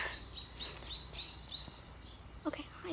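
A bird chirping with a series of short, high repeated tweets, faint and somewhat distant, amid soft room noise and brief voice sounds near the end.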